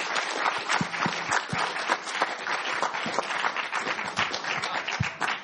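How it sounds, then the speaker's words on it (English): An audience at a debate on whether the Jesus of the Bible is the real Jesus gives the presenters a round of applause: thick, sustained crowd clapping with a few sharper nearby claps, steady for over five seconds. "Can you give them a round of applause?"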